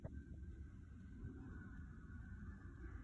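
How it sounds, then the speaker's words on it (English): A flock of geese honks outdoors in the distance, faint scattered calls over low background rumble. "Geese."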